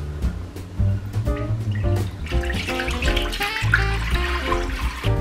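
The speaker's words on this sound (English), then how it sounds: "We're gonna pour the apple cider into the crock pot." Apple cider is poured into a large crock pot, a loud close gurgling stream with a bubbly, rising splash that runs steadily for several seconds.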